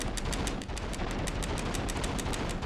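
Rapid gunfire from the video game Run Like Hell crackles in a dense, continuous burst of repeated shots, loud and close, with no talking over it.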